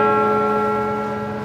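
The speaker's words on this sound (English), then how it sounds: "Very lovely to hear the bells ring over London." Church bells ring at St Paul's Cathedral in London, a sustained, resonant metallic tone with rich overtones that slowly fades, loud and heard alone.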